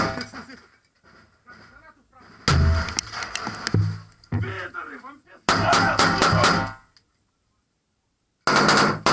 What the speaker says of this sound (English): The guys are burning through ammunition, trying to stop the Russians from overrunning them.